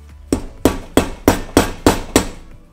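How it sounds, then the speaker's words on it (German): A screw is hammered into a stuck spark plug with seven sharp, evenly spaced metallic strikes, close and loud, each ringing briefly before the next. "Und wenn ich jetzt mit dieser Schraube hier drauf zimmer"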